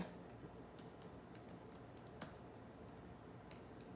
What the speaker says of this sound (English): typing one-handed with my left never goes well.